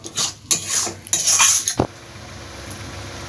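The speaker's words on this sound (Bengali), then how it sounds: "দিয়ে কষিয়ে নেব, যতক্ষণ না তেলটা ছাড়বে ততক্ষণ ভালোভাবে কষিয়ে যেতে হবে।" Mustard paste being stirred and fried in oil in a pan for a prawn and cashew dish, heard as several scraping, clattering spoon strokes against the metal pan, followed by a quieter stretch with faint background hiss.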